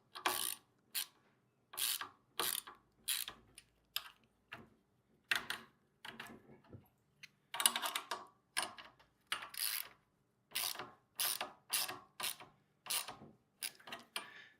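Ratchet wrench tightening a fitting on a VEVOR gas plate compactor with a 2.8 HP 78.5cc engine, heard as repeated short bursts of quick metallic clicks with brief pauses between them, close and fairly clear.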